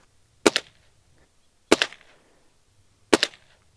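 Three sharp, close shots from a Ruger Impact Max .22 pellet air rifle, spaced about a second and a half apart, each a loud crack followed by a brief mechanical clatter.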